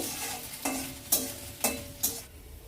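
Tempering spices with a bay leaf fry in a pan for dal, a steady sizzle running throughout with several sharp scraping stir strokes, close and fairly loud, no voices.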